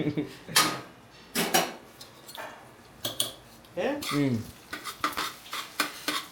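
Cabbage, capsicum and carrot are stirred in a pan for fried rice, with a series of sharp metallic scrapes and clinks of a utensil against the pan coming in irregular bursts, close and fairly loud.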